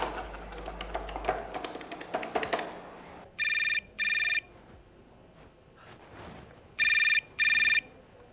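A mobile phone rings in two pairs of bright electronic bursts, loud and close, after a stretch of busy indoor sound and shuffling.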